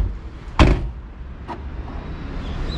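Door of a Mazda NB Roadster (NB6C) swung shut once with a sharp, close thud, followed by a fainter click about a second later over a steady low background.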